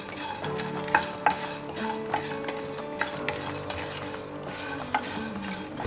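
Whole spices, cardamom, small cinnamon pieces and star anise, are stirred while dry-roasting in a pan on low heat, with a steady soft sizzle and scraping stir strokes close by.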